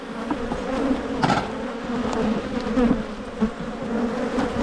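Honey bees in spring drone around an open hive, a close, continuous buzz that rises and falls as individual bees pass near, with no talking.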